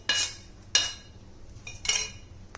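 Spoon clinks and scrapes in a bowl as sautéed onion is stirred into ragi-wheat instant dosa batter, three short bright bursts spaced about a second apart, close and fairly soft.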